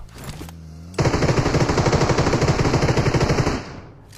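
MG3 machine gun fire in a video game: a loud, rapid, sustained burst of gunshots lasting over two seconds, preceded by a brief softer sound and ending abruptly.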